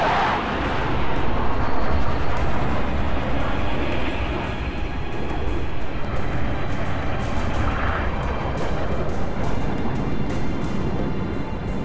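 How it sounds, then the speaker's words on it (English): Longsword fighter craft fly in during a Halo: Reach battle, a loud, continuous, broad roaring rumble that holds steady throughout with no voices. "Noble team, long swords are inbound and ready to push."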